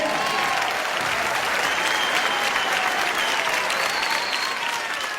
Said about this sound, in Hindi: जोरदार तालियां सभी टीमों के लिए।